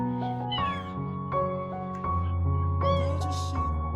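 A pet cat meows repeatedly in a domestic setting, its voice rising and falling in close, fairly loud calls with a faint background hum.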